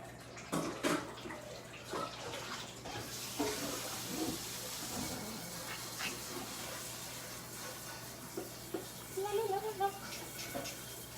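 Tap water runs into a kitchen sink while a cutting board is washed, a soft continuous splashing hiss heard under people talking nearby.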